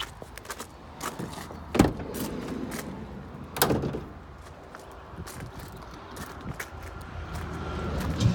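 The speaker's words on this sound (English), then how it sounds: "The back of the vehicle, open the rear tailgate." The rear tailgate of a Volkswagen Transporter T32 LWB Kombi is unlatched and swung open, with a couple of sharp clunks and thuds amid quiet handling noise, heard close by.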